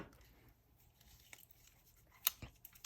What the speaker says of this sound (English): now I need to cut this off with my scissors.